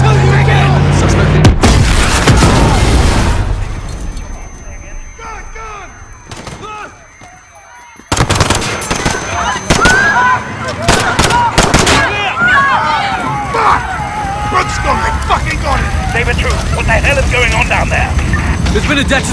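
Bursts of gunfire and booming blasts from a London attack scene in Call of Duty Modern Warfare, loud and dense with sharp cracks, a near-silent lull midway, then a sustained barrage under shouted voices.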